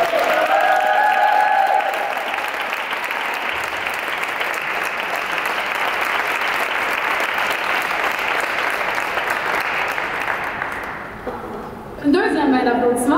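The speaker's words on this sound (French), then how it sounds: "Une deuxième main d'applaudissement." A large audience applauds loudly and steadily for several seconds, the clapping fading near the end as a voice begins speaking.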